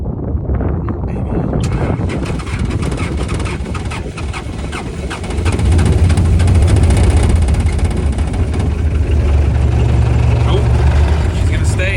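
A skid steer loader's diesel engine runs outdoors in cold wind, a loud, steady low rumble that deepens and strengthens partway through, with gusty wind buffeting the microphone and a person talking over it.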